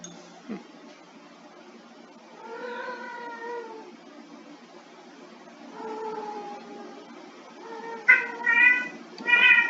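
A cat meows several times, drawn-out and plaintive, with the last calls louder and more insistent; no talking.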